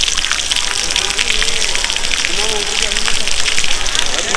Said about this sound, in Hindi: तो गाइस ये जो फाउंटेन आप देख रहे हो तो ये विदाउट मोटर के चल रहे हैं